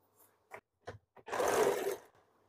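A sewing machine stitches the hook strip of a blouse: a few short taps, then a brief close burst of running stitches that quickly stops.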